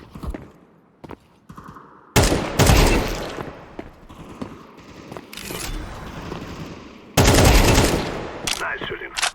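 Rapid automatic gunfire from the Counter-Strike 2 video game, with loud bursts of shots, fusillades and scattered single cracks over a few seconds, alongside faint game effects and a brief voice.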